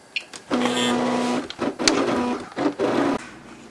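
A vinyl cutting machine cuts out a bug head shape, its motor whirring in several close, mechanical bursts with brief pauses and clicks between passes, no speech.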